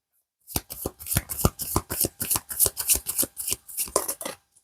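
Tarot cards being shuffled by hand, a rapid run of crisp riffling flutters in quick repeated bursts, close and clear with no talking.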